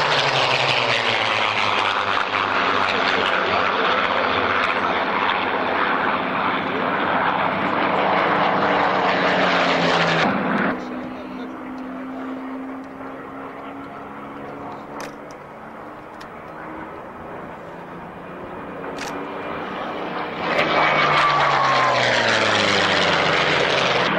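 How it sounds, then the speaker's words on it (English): A B-25 Mitchell propeller bomber flies past at the Duxford Flying Legends airshow, its loud droning engines filling the air, dipping briefly as it passes and swelling again, with no voices heard. "T-25 Mitchell passing in front of us"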